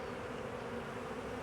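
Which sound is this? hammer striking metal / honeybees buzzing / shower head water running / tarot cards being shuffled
honeybees buzzing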